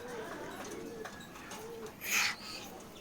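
Pigeons coo on a rooftop in a soft, low murmur of repeated calls, with a brief louder bird chirp partway through and faint voices in the background.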